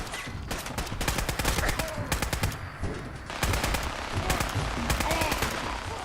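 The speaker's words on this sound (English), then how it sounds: "Nikki V has a minigun!" A companion lets loose with a minigun in Fallout 4, a loud sustained rapid-fire rattle broken by brief pauses, with other game sounds running underneath.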